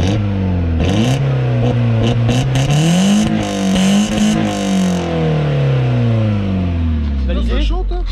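Car engine revving with newly fitted exhaust pipes during a coilover installation, a loud rising and falling drone with several throttle blips, close by, with people talking over it.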